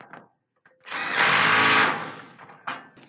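A torque-set power driver installing clamps for a ColorGard system gives one loud, close whir of about a second, framed by small handling clicks and knocks.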